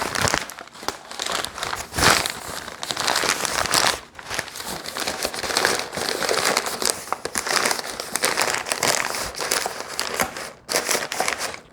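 Craft paper is crumpled into a ball by hand, giving a dense, continuous crinkling and crackling at close range for several seconds, with brief pauses and no talking.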